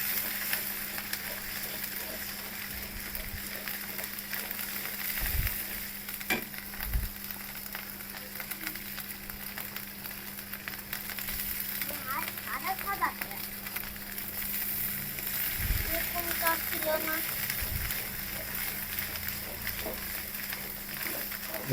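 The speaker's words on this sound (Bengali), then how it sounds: "ভালো করে একটু কষায় নেব।" Cashews, pistachios and cardamom frying in a pan for a village-style hilsa curry, with a low steady sizzle, a few stirring knocks, and faint talk under it.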